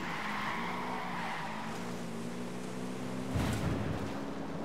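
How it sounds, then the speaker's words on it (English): Car tires skid through a drift in the Wildlands video game, with engine drone running steadily underneath before a sudden louder burst of screeching and impact noise near the end. "That was a really bad drift that I just pulled"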